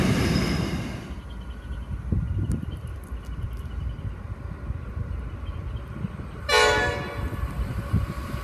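A train led by several locomotives, including number 9324, rumbles past at a distance with steady rolling noise and scattered clanks, and a horn sounds briefly near the end.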